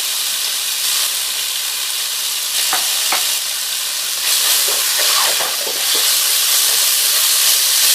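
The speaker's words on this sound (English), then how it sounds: "Mix everything well and cook till tomatoes become soft" Chopped tomatoes and mixed vegetable curry sizzle steadily in a hot pan, a loud continuous frying hiss with a few scraping stirs mixed in and no voices.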